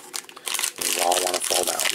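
Crinkling cellophane wrapper of a 2020-2021 Panini Mosaic basketball cello pack being handled and ripped open, close and crackly in short bursts, with a voice speaking over it.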